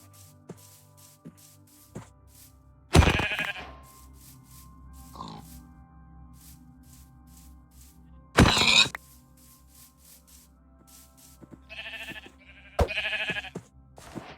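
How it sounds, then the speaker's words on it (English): Several loud, brief animal calls ring out at intervals, sheep bleats in Minecraft separated by quiet stretches with faint clicks. "There are so many sheep."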